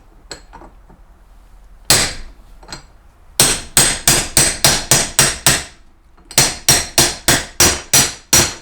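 A hammer pounds a utility or boat trailer wheel bearing into place: a few scattered taps, then two sharp rapid series of metallic blows, loud and close, with a short pause between the volleys.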